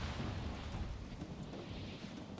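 Explosions from mines detonating as Marines trigger them in the real-time strategy game Halo Wars 2, a dense continuous rumble of booms and bursts filling the whole stretch without pauses.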